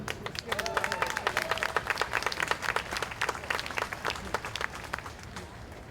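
An outdoor crowd at the 2016 Bughouse Square Debates applauds, brisk, fairly close clapping from many hands that swells and then tapers slightly, with a faint voice early on.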